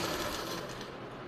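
A sewing machine stitching a baby frock, a brief steady mechanical whir close by, fairly quiet.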